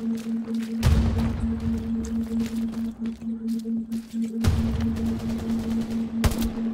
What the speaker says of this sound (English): They're smoking the south side right now with artillery.